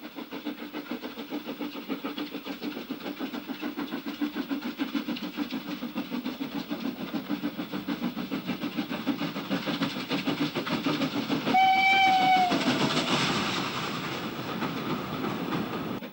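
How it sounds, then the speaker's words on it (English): Two steam locomotives, a 2P piloting an unrebuilt West Country 34102 Lapford, haul the Down Pines Express in a steady rolling chuff with rail clatter. A whistle sounds briefly near the end. "A 2P piloting an unrebuilt West Country number 34102 Lapford on the Down Pines Express."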